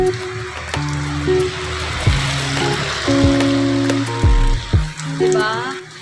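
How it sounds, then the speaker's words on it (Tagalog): Heavy typhoon rain pours outside a house, a steady broadband wash of water with drips and splashes running the whole time, while tonal household sounds and a voice rise and fall over it. "Super duper lakas ang ulan."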